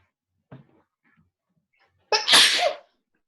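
A single sharp sneeze bursts out close by after a brief soft sound, then silence.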